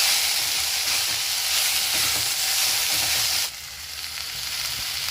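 Chili sauce and tomato ketchup being stirred together in a hot pan, a steady close sizzle and frying hiss with faint scraping, dropping to a quieter sizzle partway through.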